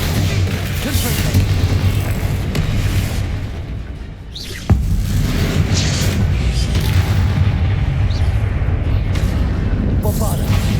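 Booming Confringo blasting-spell explosions from Hogwarts Legacy roll through a dense, loud wash of game sound effects, with one sharp blast standing out near the middle and a voice speaking over parts of it.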